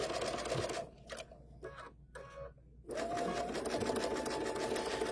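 An embroidery machine stitching a KimberBell Holiday Rope Bowls design gives a rapid, even mechanical chatter, with a short pause and some stop-start stitching midway before it resumes at full speed, fairly quiet and close.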